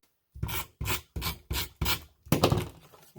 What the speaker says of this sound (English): I'm going to just trim this off here because it's tucked behind that photo